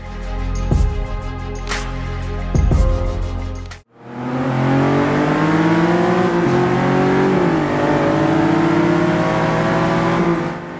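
A British Racing Green Lotus Exige S sports car on the COTA racetrack, its engine droning loudly and steadily at high revs, with a sharp gear change or lift near the start followed by a sustained, climbing engine note.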